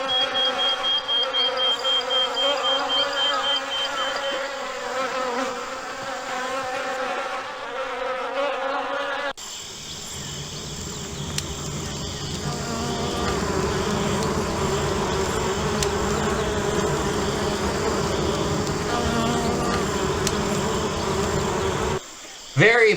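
Steady insect buzzing fills the scene, bees in the video game Amerzone, a dense continuous drone that shifts in tone partway through and runs almost without pause.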